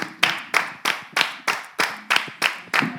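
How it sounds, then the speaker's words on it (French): Studio audience claps in slow unison, about nine sharp, evenly spaced beats that each ring briefly before the next, rhythmic rather than a scattered ovation. "Applaudissez la trace pour moi, s'il vous plaît."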